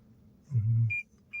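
A 2021 Lexus NX parking sensor gives a single short electronic beep that rings out clearly, followed by the start of another, over a low rumbling hum.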